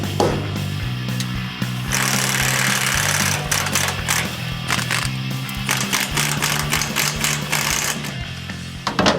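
Seized leaf spring bolts on a Suburban being lifted into an off-road rig cut off with a power tool: a loud, close, buzzing mechanical drone with rapid rattling pulses and brief interruptions throughout.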